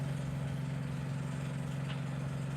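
A car engine idles nearby with a steady, low, even hum. It stays quiet and constant throughout, and no one speaks.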